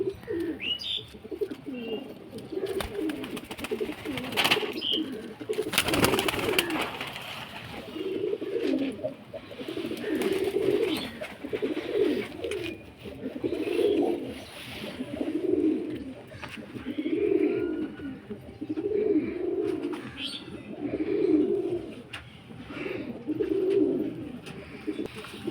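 Pigeons in a loft coo in a steady, rhythmic series of low throbbing calls, repeating every second or so for a long stretch, with scattered chirps, wing flutters and a brief loud rustle early on.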